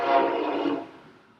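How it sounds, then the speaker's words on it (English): An Acela high-speed train on the East Coast rushes past outside as a broad, steady roar that swells briefly and then fades away. "That sounded like the Acela, that accelerated train that goes on to a tiny part of the Eastern Seacoast."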